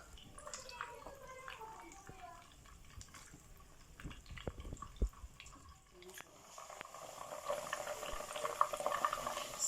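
Onion and ginger cook in a pot with a steady bubbling, simmering sound and occasional soft clinks, growing a little livelier toward the end.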